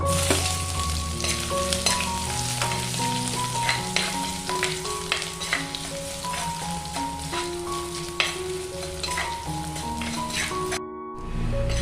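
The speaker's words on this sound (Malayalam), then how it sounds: "ഇഞ്ചിയും വെളുത്തുള്ളിയും കൂടെ ചതച്ചതും കൂടെ ചേർത്തിട്ട് കൊടുക്കാം" Crushed ginger and garlic sizzle in hot oil with mustard seeds and fenugreek for a coconut-based fish curry, a loud, continuous close frying hiss broken by light stirring scrapes throughout.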